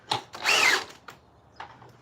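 A power drill drives a screw into a piece of a tree trunk, giving a short whirring burst of about half a second between faint clicks and bumps, heard alone at moderate volume.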